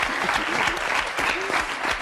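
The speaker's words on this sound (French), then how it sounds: "Bah, vous pouvez l'applaudir" A studio audience applauds on a French talk show, steady dense clapping close and loud for a couple of seconds.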